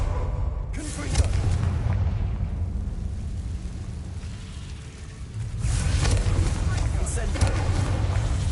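The Confringo explosive spell cast in Hogwarts Legacy: a deep booming blast with a rumbling decay, then a second loud boom a few seconds later, with game voices mixed in.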